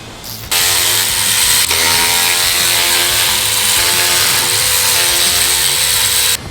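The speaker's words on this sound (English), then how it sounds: "We're going to start by taking out these lower 6 bolts right here with the" A power tool with a 10mm socket spins out the lower bolts of a differential cover on a Bronco axle while fitting a rear differential skid and pinion guard. It makes a loud, steady, whining buzz that starts abruptly and runs for about six seconds, close up.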